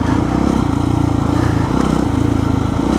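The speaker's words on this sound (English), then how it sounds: "Or I hear your bike engine in the back." A Kawasaki KX dirt bike engine runs steadily behind the rider on a trail, giving a continuous buzzing drone with a fast pulsing rhythm and no speech over it.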